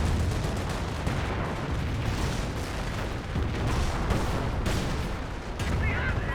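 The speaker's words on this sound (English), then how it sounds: "Taking a lot of damage there. That Nebel Warfare is on point." A Nebelwerfer rocket artillery barrage in Company of Heroes rumbles on with dense overlapping booms, blasts and crackling impacts, loud and continuous throughout.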